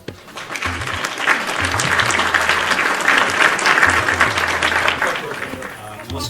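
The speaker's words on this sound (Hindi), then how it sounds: "सबगोटा जोरदार ताली से उनका स्वागत करी।" A crowd at a Maithili cultural ceremony gives loud, sustained applause welcoming a singer, a thick wash of clapping that swells in and holds steady before easing slightly at the end.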